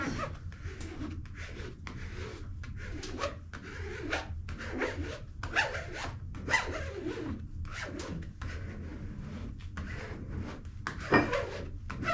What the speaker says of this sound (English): You can actually scrape on it and not have to worry about damaging the vinyl itself.